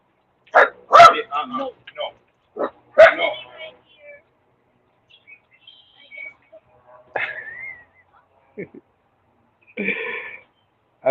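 A dog barks and yips in a few short bursts between pauses, close and fairly loud, and a whimper follows.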